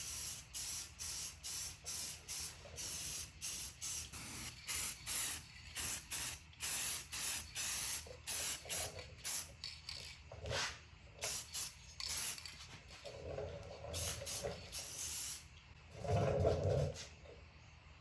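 Aerosol spray paint laying down a heavier coat on a Dodge Charger Daytona trunk decal, short hissing bursts repeated in quick rhythm, then a few longer sprays, close and fairly quiet.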